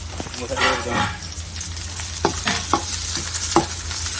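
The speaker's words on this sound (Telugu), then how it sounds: "అదే బండిలో మనం కొంచెం ఆయిల్ వేసుకొని ఎర్రగడ్డలు కోసుకొని వాటిని అయితే వేసుకోవాలి" Onions fry in oil in a pan with a soft sizzle, broken by several short scraping stirs near the end.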